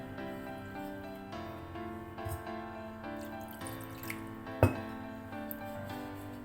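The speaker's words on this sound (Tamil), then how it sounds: "இந்த மாதிரி நல்லா புழிஞ்சு விட்டுக்கோங்க." Water trickles and drips steadily as freshly made chenna for rasamalai is squeezed out in a cloth after rinsing in ice water. The flow is soft and continuous, with one sharp click partway through.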